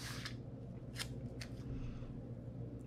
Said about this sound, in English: I just end up trimming off a little from each side.